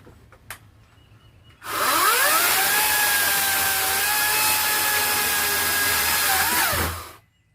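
A Ryobi 40-volt brushless cordless electric chainsaw with an 18-inch bar whirs up to speed and runs steadily for several seconds, loud and close, then winds down and stops.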